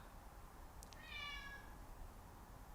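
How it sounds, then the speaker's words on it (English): A house cat meows once in the background, a short faint cry over a steady low hum, with no talk. "you might even hear my cat crying in the background"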